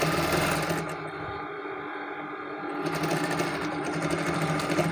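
A sewing machine stitches a kameez with piping. Its motor whirs and rattles steadily up close, eases briefly in the middle, then picks back up.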